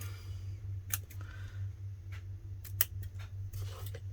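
Ribbon scissors snip in a quiet craft room, a few short sharp cuts spaced irregularly over a soft low electrical hum, with no talking.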